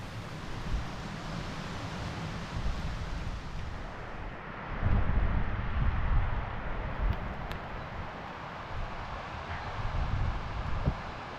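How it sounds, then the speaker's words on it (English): Wind blows and gusts through a pine woodland campsite, a steady low roar buffeting the microphone that swells louder in the middle, with no talk. "that wind's definitely picked up a little bit"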